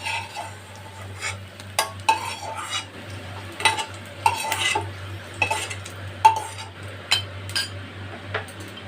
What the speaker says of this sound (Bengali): এটা আমি একটা পাত্রের মধ্যে তুলে নিচ্ছি